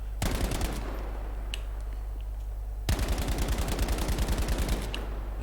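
Two rapid bursts of submachine gun fire in Battlefield V with an anti-recoil mod, the first short and the second longer and more sustained, close and loud over a steady game background hum.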